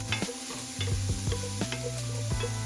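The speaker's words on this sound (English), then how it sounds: "Add ground meat. I'm using ground pork, and cook until browned and slightly crispy" Ground pork browning in oil in a pan over medium heat for mapo tofu, with a steady sizzle broken by several sharp scraping, stirring knocks of a utensil against the pan, close and fairly loud.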